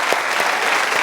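Steady applause from a church congregation in worship, a brief, dense patter of many people clapping together, with a few louder claps.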